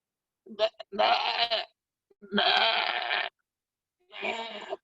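A human voice imitates a goat's bleat in three loud, drawn-out bursts with short gaps, wavering and nasal, close to the microphone and with no other talk.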